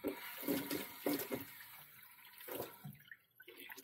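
Warm water runs from a tap into a sink, a faint splashing trickle in short irregular bursts, quiet and close, with gaps of near silence between spurts.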